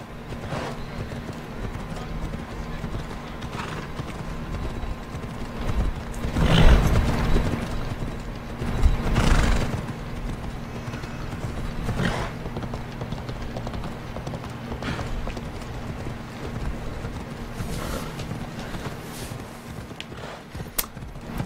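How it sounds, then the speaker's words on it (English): Steady hoof clip-clops from a horse in a video game ride along at moderate volume, with occasional louder thuds and a faint neigh, over a low constant hum. "Here we go, horsey."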